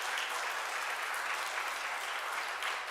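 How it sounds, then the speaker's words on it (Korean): A church congregation at a revival meeting applauds, a steady, even wash of many hands clapping at once that carries on without a break, slightly distant in a large room. "우리 박수 한번 좀 드리십시다"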